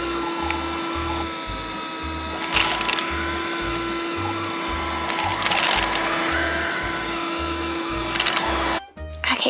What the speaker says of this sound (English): Let's vacuum.